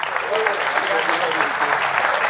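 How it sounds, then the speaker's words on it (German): An audience at a driving-school conference applauds a volunteer with steady, dense clapping throughout the short burst, close and filling the room. "Ein Applaus bitte für dich."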